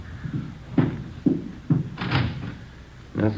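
A closet door in an upstairs apartment is opened and searched, giving a series of dull wooden thumps and knocks spaced about half a second apart, close by, with faint rustling between them.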